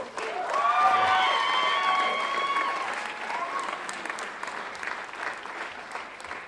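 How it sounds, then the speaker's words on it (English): Steady applause from a crowd, with a few cheers and whistles rising early on, then the clapping continues evenly before slowly thinning. "just a big round of applause for the guys"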